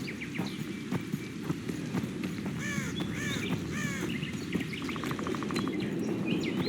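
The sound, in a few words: woodpeckers in the background, from a video game (The Witcher 2)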